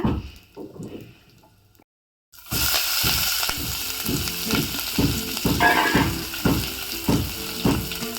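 Crushed green chilli and curry leaves fry in hot oil. A brief quieter patch and a near-silent gap give way to loud, bubbling sizzle with rhythmic spoon-stirring clicks and scrapes.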